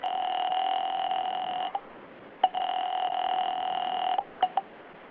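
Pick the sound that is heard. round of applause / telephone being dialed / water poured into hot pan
telephone being dialed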